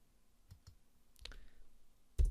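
A computer mouse clicks a few times while working through a Solidity programming setup, giving sparse, faint, close taps with a sharper click near the end and no talking.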